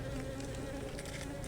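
Honeybees buzzing around an open Apimaye nuc hive during a colony combine, a dense continuous drone of many wings close by, steady and moderately loud with no talking.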